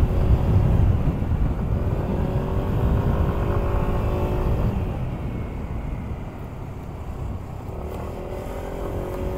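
A Kymco Skytown 125 scooter (2024) ridden at full throttle along a dam, its engine droning steadily under heavy wind rush, the tone easing slightly toward the end.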